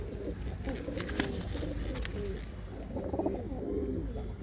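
Several pigeons coo steadily at close range in a soft, overlapping stream of low throaty calls, with a few brighter chirps scattered through and no voices.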